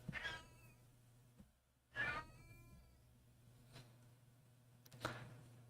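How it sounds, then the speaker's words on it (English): A house cat meows several times in the background, drawn-out yowling calls spaced a second or two apart, fairly faint against a quiet room hum. "don't know if you guys can hear my cat in the background."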